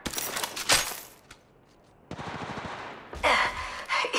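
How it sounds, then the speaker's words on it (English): Gunfire in the video game Apex Legends comes in loud, rapid automatic bursts, broken by a short lull before more fire resumes. "Opening fire."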